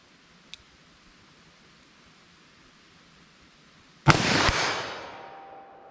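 A .357 revolver loaded with Winchester 9mm ammunition fires one sharp, loud shot outdoors after near-quiet, and the blast decays over about two seconds.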